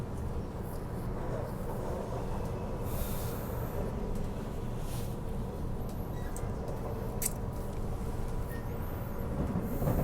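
A passenger train in service runs as a steady, loud broadband rumble with hiss, heard continuously from on board throughout, with a few faint higher squeals.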